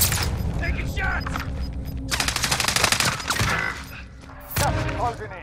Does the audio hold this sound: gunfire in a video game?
yes